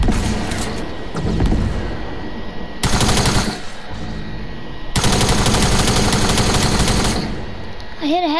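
Rapid video game gunfire rattles loudly in long automatic bursts, broken by short pauses, with a brief voice at the very end.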